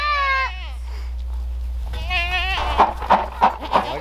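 Goats, including bucks, bleat on a farm: a long wavering cry, a pause, then another drawn-out bleat followed by several short, loud, choppy calls, all close and over a low steady hum.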